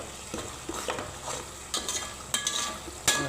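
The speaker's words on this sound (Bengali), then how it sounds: "মশলাটারে ভালো করে কষায় নিব" Ground coriander and cumin being stirred and fried for a chicken curry, with a steady soft sizzle broken by several scraping stirs of the spoon, close and moderately quiet, no talking.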